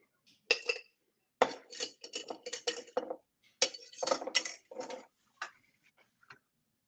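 A frothy egg-white cocktail is poured into a glass, with ice clinking against the glass in several short bursts and a pause partway through.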